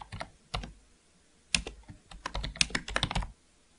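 Quiet, close keystrokes on a computer keyboard come in a few short irregular bursts of typing with pauses between, and no one speaks.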